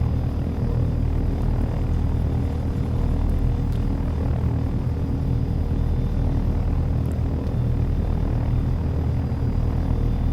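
A helicopter in the flight sim game Take On Helicopters makes a steady, loud rotor and engine drone that holds unchanged for the whole stretch, with no voices.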